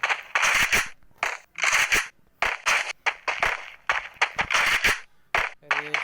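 Rapid bursts of gunfire from the video game Free Fire come in clustered volleys, loud and sharp with brief gaps between strings of shots.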